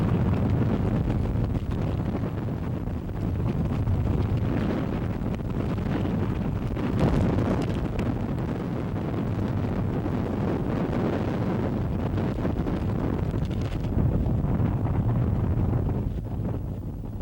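Hurricane Iwa's storm wind in 1982, a steady, roaring gust-laden rush buffeting the microphone close up for the whole stretch, with no voices over it.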